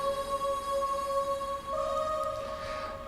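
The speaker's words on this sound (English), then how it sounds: "It's a cool synth choir sound. So these two layered together sound like this." Sustained synthetic choir voices hold steady, layered tones, fairly soft, with the chord shifting slightly partway through.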